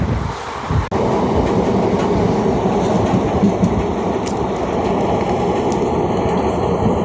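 Hool Express passenger train from Howrah to Siuri running steadily, a loud continuous rumble of wheels and carriages heard from onboard with faint rhythmic clatter throughout.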